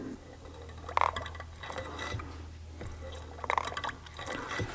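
Brake fluid gurgling and bubbling in the reservoir while a Wilwood dual bowl master cylinder is bench bled, faint wet bursts coming in two pumping surges over a low steady hum.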